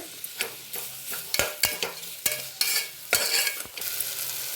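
Ginger garlic paste sautéing in a pan for a millet vegetable biryani, with a loud close sizzle broken by repeated sharp spoon or spatula scrapes and stirring strokes, no talking.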